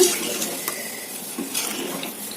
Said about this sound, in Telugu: తగినంత వాటర్ పోసేసుకుందాం